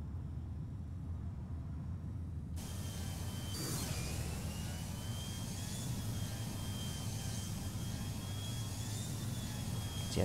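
A Lufthansa regional Canadair CRJ900 jet takes off from Rzeszów Jasionka, its engines a loud, steady roar with a rising whine heard from inside the cabin, with no talking.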